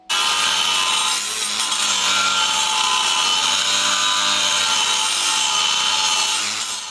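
Loud, steady cut through a metal steering part of a 1941 Mercury held in a vise, a continuous harsh rasping whine running unbroken and up close for the whole stretch.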